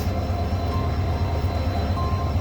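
A deep, constant rumble of the Haor Express train idling nearby at Mohanganj railway station in early morning, a steady low drone with faint higher tones above it.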